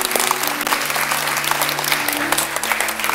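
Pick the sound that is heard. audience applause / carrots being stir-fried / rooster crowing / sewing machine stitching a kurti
audience applause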